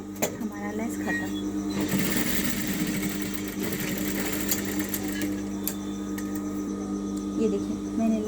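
A sewing machine hums steadily at close range while attaching lace to a blouse, with its motor whirring continuously throughout.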